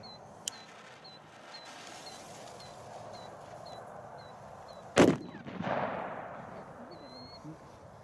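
A consumer firework fountain bursts with one sharp loud bang followed by a brief crackling spray, preceded by a faint pop and repeating faint chirps, heard outdoors from a short distance.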